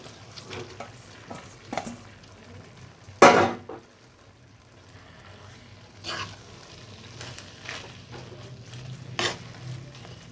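Mashed drumstick flowers are stirred and fried in a pan, producing a steady soft sizzle broken by scraping strokes of the spoon against the pan, with one louder clatter near the middle.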